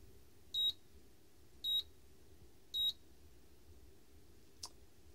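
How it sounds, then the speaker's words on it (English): An IKEA 2 kW induction cooktop with the child lock active gives three evenly spaced, short, high electronic beeps about a second apart, then a faint click, in an otherwise quiet room. "it will just beep with an alarm and do nothing"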